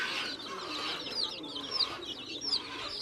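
Hens cluck and chirp softly over a steady barnyard murmur, with a few high peeping calls scattered through.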